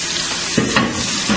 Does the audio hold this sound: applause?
no